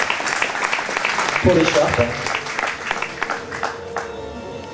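Steady audience applause at a beauty pageant fills the background while a voice speaks over it, the clapping continuing throughout.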